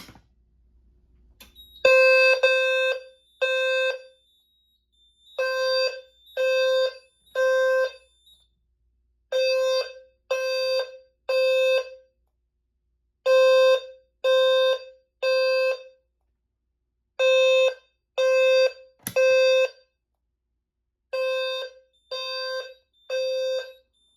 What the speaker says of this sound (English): a system sensor B200WH LF low frequency sounder, and a system sensor spectral and advanced horn strobe with a low frequency sounder